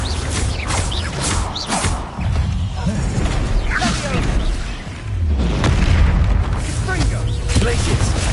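Bombarda blasting spells in Hogwarts Legacy go off as repeated heavy booms with crashes and whooshes, loud and close over busy combat noise.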